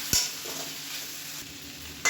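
Tomatoes and a small piece of tamarind are stirred as they sauté in a pan for tomato chutney, giving a steady soft sizzle with a scrape near the start and another right at the end, no voices.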